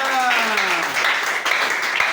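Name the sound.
congregation applauding loudly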